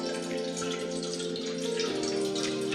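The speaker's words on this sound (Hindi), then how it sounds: "उसके बाद वही तपेली में हम पानी डालना है" Water pours into a metal cooking pot in a kitchen, a steady close splashing and gurgling stream that runs throughout.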